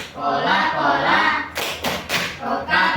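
Students in a classroom finish a group chant, then clap in three or four sharp, loud bursts together before the chanting voices resume.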